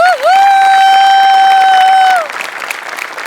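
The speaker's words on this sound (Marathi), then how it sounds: "तुझ्यासाठी स्पेशल टाळ्या" A studio audience on a Marathi comedy stage show breaks into applause, a dense burst of clapping that follows a loud, sustained bright tone lasting about two seconds.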